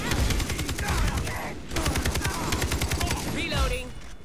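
Rapid bursts of automatic gunfire in the video game Far Cry 3 during co-op play, two long volleys separated by a brief pause, loud and close, with a short voice heard near the end.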